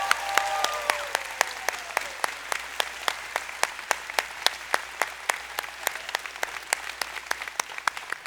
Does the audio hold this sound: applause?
yes